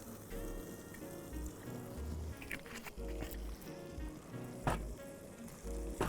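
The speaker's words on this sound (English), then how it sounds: "I've gone in with the pancetta. It's gonna need a tiny bit of oil just to help it carry" Pancetta frying in oil in a pan for a sausage ragu, a steady crackling sizzle with brief sharp pops and occasional stirring clatter, no voices.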